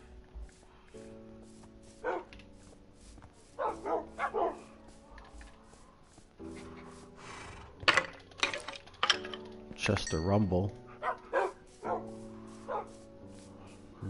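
Dogs bark, yip and whimper in a Minecraft game, short bursts scattered across the clip over background game music, with a person talking at times.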